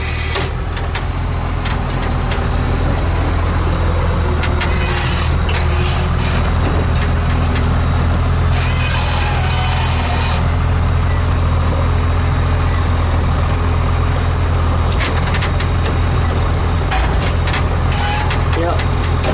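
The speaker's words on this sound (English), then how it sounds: "I'm better at driving a truck" A truck engine droning steadily while driving between stops at a pallet-making operation, loud and continuous, with road rumble and rattling throughout.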